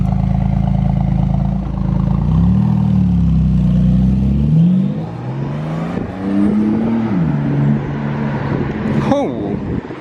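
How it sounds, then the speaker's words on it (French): A Porsche GT2 RS with open exhaust valves revving on a Monaco street, loud rising and falling engine blips with deep harmonic sweeps, close by, followed by a quieter idle and further revs. "et maintenant on a droit à la GT2 RS. ouvert les valves, c'est un bon."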